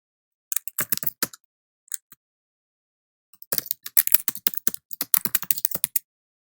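Keys on a computer keyboard typed in quick bursts, crisp close clicks in short runs separated by pauses, then a longer fast stretch, with silence between and no voices.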